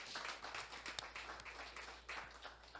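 Quiet, steady applause from a church congregation, many hands clapping continuously at a distance.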